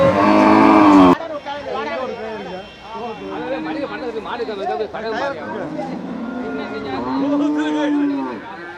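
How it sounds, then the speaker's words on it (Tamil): Cattle at the Melur cattle market low repeatedly in long, drawn-out calls, some overlapping, amid a busy crowd of voices and chatter. "நாட்டு மாடு நாட்டு மாடு"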